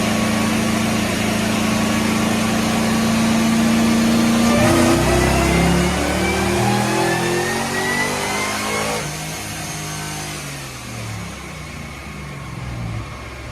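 A supercharged LSA 6.0 in a 2007 Chevy Avalanche runs loud and close on a dyno, holding a steady drone before sweeping up through a hard rev and then winding back down.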